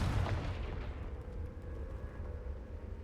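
A Confringo fire spell blasts in Hogwarts Legacy, a loud booming burst at the start that rolls off into a rumbling, fading tail over steady low-end noise.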